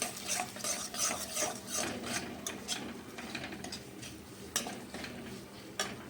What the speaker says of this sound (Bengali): সুজিটা আমি তেলের মধ্যে দিয়ে দিলাম, দিয়ে নাড়াচাড়া করবো।